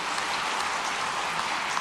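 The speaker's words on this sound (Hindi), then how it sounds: "सबके लिए जोरदार ताली बजाओ।" A large crowd at a public event claps enthusiastically, a dense, even hiss of many hands that sounds somewhat distant and rain-like, continuing unbroken.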